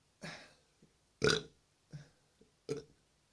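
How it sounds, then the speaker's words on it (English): Several burps after sips of Kingdom pilsner, a rice-forward beer: four separate, fairly loud belches spaced about a second apart, each short and rough, with small gulping sounds between them and no talking. "Remember, if I burp, it's a sign of a good beer."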